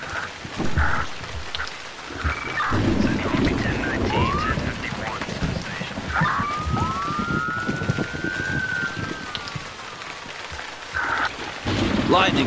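Rain and rolling thunder in the Emergency 4 video game, a steady hiss of downpour with low rumbles, while a wailing police siren sweeps up and down through the middle and faint voices murmur underneath.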